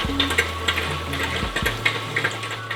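A saltwater reef aquarium system runs with water gushing and splashing loudly through its plumbing, alongside a steady pump hum in a continuous close churn.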